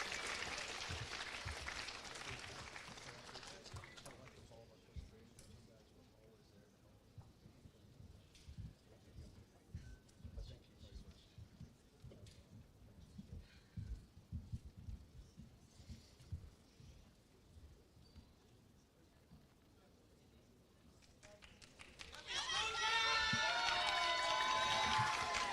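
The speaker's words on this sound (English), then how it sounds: "Please give them a big round of applause" Audience applause fills a 2023 Paragould High School awards ceremony for 9th to 11th graders, a dense burst of clapping at the start, a quieter stretch of murmur and rustle, then another loud wave of applause at the end.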